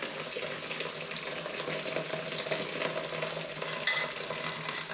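Hot milk mixed with eggs and sugar is poured through a strainer, giving a steady, close liquid trickle and splashing over soft kitchen clatter, with no voices.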